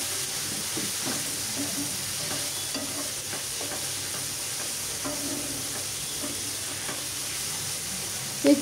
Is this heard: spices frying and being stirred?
yes